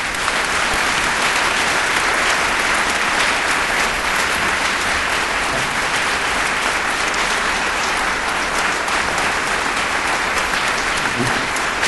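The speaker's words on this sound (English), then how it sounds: "So please give us a big round of applause." Sustained audience applause for award recipients at a spring university convocation, a thick, even wash of clapping from a large crowd that continues steadily for about twelve seconds.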